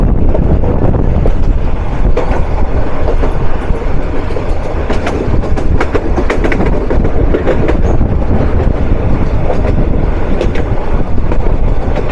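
A commuter train rolls along the rails near Jamalpur, a loud, steady rumble with rhythmic clickety-clack from the wheels and some wind buffeting, continuous throughout with no talk.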